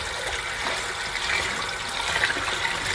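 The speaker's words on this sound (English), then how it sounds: "So I will put it to my bathing and then turn on the tap and to wash it." Tap water running over a Doogee S200 rugged 5G phone in a bathroom, a continuous splashing, hissing stream that stays close and fairly loud throughout, with no talking.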